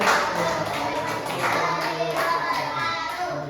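A fourth-grade class claps together after a group's science presentation on magnets, a steady wash of hands filling the room with children's voices mixed in.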